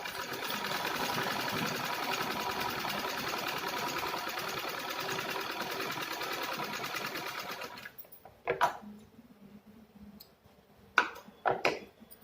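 Sewing machine stitching a seam on reused fabric pieces, a steady close mechanical whir for about eight seconds, then stopping, followed by a few short handling clicks and knocks in near silence.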